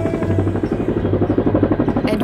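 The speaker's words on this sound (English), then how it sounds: "Oh, look at the chinook." A Chinook helicopter flying past a sailboat between Mykonos and Syros, its rapid twin-rotor thudding loud and close, a throbbing rhythmic chop held steady over the whole moment.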